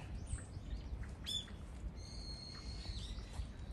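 Faint bird chirps and a few thin, high calls rise over a steady low outdoor rumble in a busy park beneath sakura trees that have not yet blossomed; the calls come in brief, scattered bursts at a distance.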